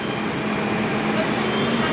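Steady rumble of a Dubai Metro train at a station platform, with a continuous hum and faint high whine, no talking.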